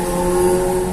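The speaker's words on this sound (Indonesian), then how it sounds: "ini suara traffic yang ramai ya guys" Busy road traffic rumbles past an open window of a 2017 Toyota Innova Q, a loud steady wash of engine drone and tyre noise that continues without a break and has no voices over it.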